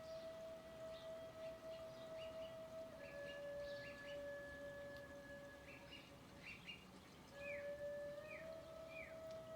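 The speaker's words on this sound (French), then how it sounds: "Vous entendez les petits oiseaux qui nous accompagnent, les petits oiseaux du jardin" Small garden birds sing and chirp softly in the distance, with scattered thin whistles and short tweets over a quiet, hushed background.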